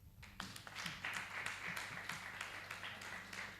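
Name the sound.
group clapping for themselves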